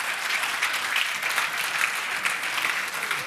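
An audience applauds steadily, a dense wash of clapping hands that holds at an even level throughout.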